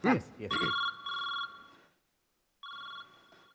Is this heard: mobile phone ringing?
yes